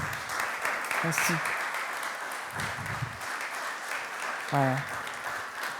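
A church congregation at New Life church claps and cheers for nine newly baptized people. The applause is steady and sustained, with a few short spoken words over it.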